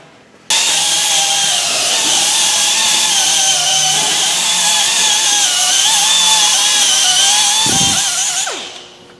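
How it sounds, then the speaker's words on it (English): A power grinder running inside a machine, a loud continuous high whine that starts abruptly, holds steady for about eight seconds with slight pitch wavers, then winds down. "What are you doing in there with a grinder?"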